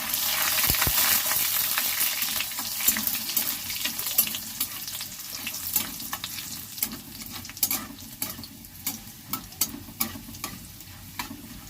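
Chopped garlic fries in oil with panch phoron, a soft steady sizzle broken by repeated scrapes and clinks of stirring, close up and quiet, with no voices.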